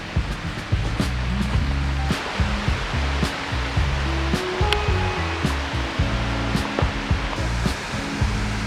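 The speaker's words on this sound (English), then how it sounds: "Across the street from site 8, you have these rapids right here too." Rapids on a river near a campsite at Parc national des Hautes-Gorges-de-la-Rivière-Malbaie roar in a steady, loud broadband rush of water, continuous and close, with faint background tones and no speech.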